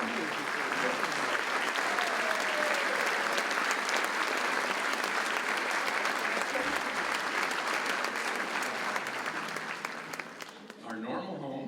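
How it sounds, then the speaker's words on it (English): A concert audience at a community band performance claps in sustained, dense applause that stays steady for several seconds before tapering off near the end, with some voices mixed in. "we're going to give you a nice round of applause"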